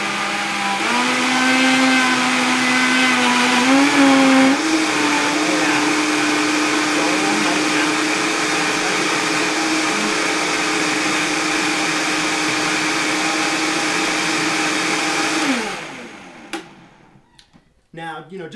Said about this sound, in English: just because I'm using the Vitamix here, you could use any style blender